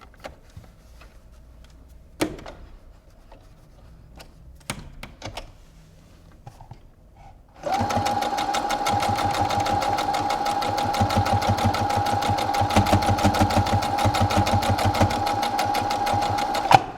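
Sewing machine stitching along the side of face mask fabric, starting after a few quiet handling knocks and running as a steady, continuous whir with rapid needle ticking for about nine seconds, fairly close.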